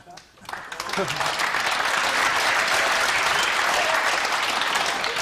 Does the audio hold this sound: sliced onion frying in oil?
no